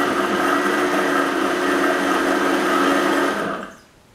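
A blender whirs loudly and steadily as it mixes almond cake batter, holding one even motor drone for about three seconds before spinning down and cutting off.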